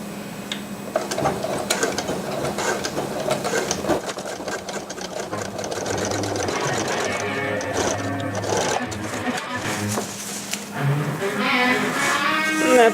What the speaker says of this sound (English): I'm just going to use a backward stitch all the way up the edge